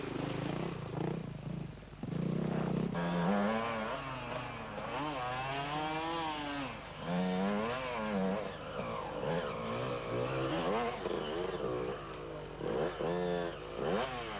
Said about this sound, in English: Roger Lagerqvist, 270, on the Husqvarna, and it's not all going right for him